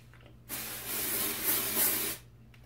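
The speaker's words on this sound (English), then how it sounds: "Take some dry shampoo." One steady, close hiss of dry shampoo spray on hair lasting under two seconds, starting and stopping abruptly, with quiet room tone around it.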